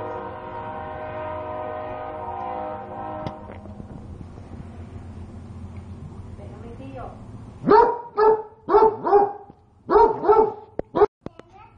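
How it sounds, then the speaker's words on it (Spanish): A dog barks in short bursts, several sharp barks in quick succession, close by, after a stretch of quieter background noise. "Ladrando porque la comida está caliente."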